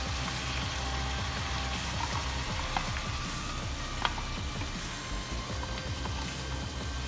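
A bread roast topped with omelette fries on a hot tawa, giving a steady close sizzle with occasional small clicks and pops and no talking.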